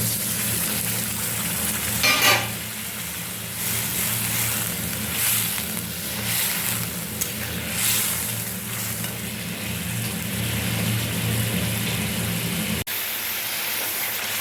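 Spice masala for katla kalia sizzles steadily in hot oil after a splash of water, a dense continuous fry with stirring scrapes and a brief louder burst early on, no voices.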